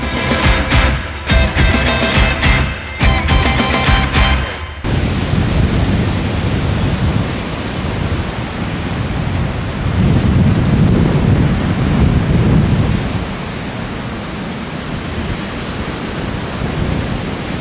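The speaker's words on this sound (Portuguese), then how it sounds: "tá muito vento" Strong wind buffeting the microphone beside rough sea surf on the Rio Grande do Sul coast, opening with harsh gusty bursts and then settling into a continuous loud roar of crashing waves and wind.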